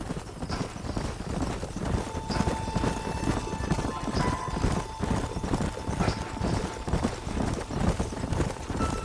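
Several horses trot in Red Dead Redemption, their hooves clip-clopping in a steady, close, continuous rhythm, with an occasional faint whinny and some game dialogue.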